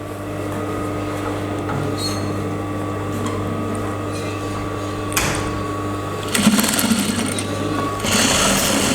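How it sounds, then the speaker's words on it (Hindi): Sewing machine stitching the folded waistband of a gathered dirndl skirt, a steady close mechanical whir running throughout, with a few brief louder bursts of clatter near the end. "फोल्ड कर सिलाई लगाएंगे इसे"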